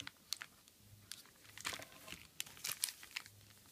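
Crinkly foil wrapper of a Japanese Pokemon XY booster pack is handled and torn open, close and fairly quiet, in short rustling bursts with brief pauses.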